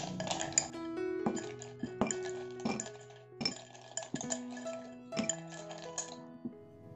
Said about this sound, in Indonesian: Jangan lupa dikasih es batu.